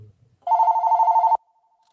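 A single telephone rings with one short burst of warbling electronic trill, loud and close, stopping abruptly amid otherwise quiet surroundings.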